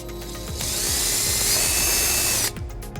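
A power drill bores a hole for a trailer wiring harness mounting bracket on a 2015 Volvo XC90. It gives a steady, close, high whine that lasts about two seconds and then stops abruptly.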